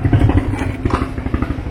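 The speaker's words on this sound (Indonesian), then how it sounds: "Itu suara mesin apa tuh ya? Mesin padi kayaknya." A rice milling machine engine runs in a riverside village on Kalimantan's swampy lowlands, giving off a steady, throbbing mid-pitched chug with a faint clatter. It sounds continuous and fairly close, with no talk over it.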